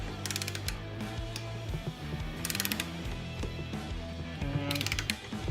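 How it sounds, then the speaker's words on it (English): Large wrench tightening ARP studs on an Xterra race truck, ratcheting in three quick clicking bursts separated by pauses, close and distinct over a low steady hum. "If you have a big costly wrench like this."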